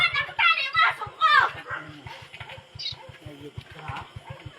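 A tied-up dog barks a few times close by, mixed in with loud, agitated shouting voices and a faint rhythmic ticking in the background.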